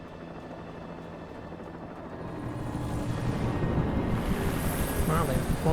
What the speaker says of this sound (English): the chopper's in fast